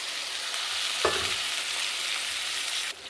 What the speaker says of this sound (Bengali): মশলার সঙ্গে ফুলকপিটা কষে নেব।